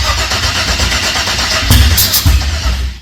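A Holden HZ with an LS engine swap cranks and fires, its rough engine noise loud and close with a couple of uneven bangs suggesting the timing is out.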